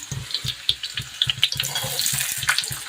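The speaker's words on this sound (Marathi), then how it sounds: "कांदा पण छान असा लालसर रंग येईपर्यंत परतून घ्यायचा आहे" Onion sautéing in a pan with garlic and cumin, close crackling sizzle with rhythmic stirring and scraping strokes repeating every fraction of a second, no voices.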